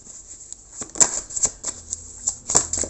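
Oracle cards riffle and slap together during a shuffle for a reading, with a run of close, crisp flicks and taps over about three seconds and no talk.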